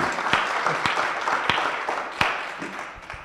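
Audience at a municipal vision-day event in Kohila applauds a volunteer taking a seat, dense steady clapping with a few sharp louder claps standing out, fairly close and alone without talk.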